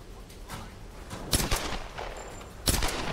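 Gunfire in Tomb Raider (2013) comes as a few sharp, fairly close shots spaced over a few seconds, the strongest near the middle and the end, with a low game ambience between them.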